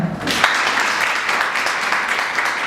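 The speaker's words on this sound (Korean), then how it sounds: "박수 한번 주세요" Sustained audience applause at a talk event for an announcer, a steady, dense clatter of many hands with a brief louder burst near the start.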